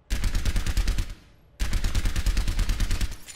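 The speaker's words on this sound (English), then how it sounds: "Can I have 5 or 6 shot bursts now? So it's like a 6 shot burst?" Rapid bursts of in-game gunfire from an Overwatch hero, loud and close, rattling shots in two long volleys split by a short gap.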